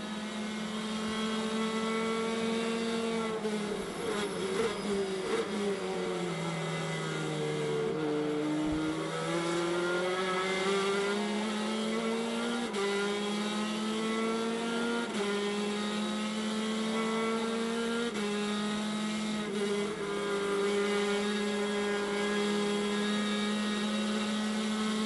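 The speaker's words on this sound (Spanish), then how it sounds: "cámara a bordo en el auto de Mariano Pernía." A TC2000 touring race car at Concordia, recorded from its onboard camera, drones steadily and loudly throughout, its engine pitch climbing and dipping through gear changes and corners.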